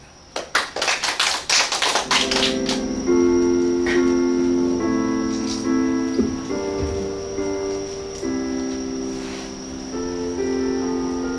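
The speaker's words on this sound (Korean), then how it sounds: "박수로 청해 듣겠습니다" An audience at a library poetry recital gives a short round of scattered hand claps that fades after about three seconds, followed by sustained soft instrumental music tones.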